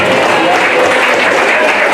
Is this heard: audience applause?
yes